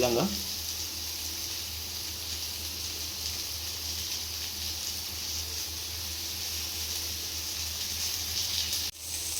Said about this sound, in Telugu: ఇలా వేగుతుండగా మధ్య మధ్యలో మనం కొంచెం కొంచెంగా ఆయిల్ పోసుకుందామండి